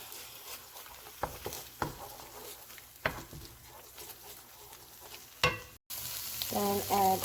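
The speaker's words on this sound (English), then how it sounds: "Once softened, just crack 2 eggs and scramble it." Eggs scrambled in a pan with melted unsalted butter and softened diced onion, a soft steady sizzle broken by sharp scraping stirs near the spatula, then a brighter louder frying burst toward the end.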